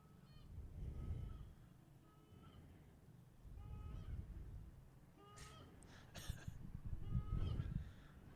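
Several geese honk at a distance during a goose hunt, giving repeated calls in loose clusters across a noisy outdoor background, with no speech.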